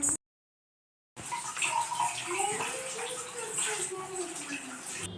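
Freshly picked ivy gourd leaves being washed in water, a steady close splashing and running-water wash after a brief silence, with a faint voice in the background.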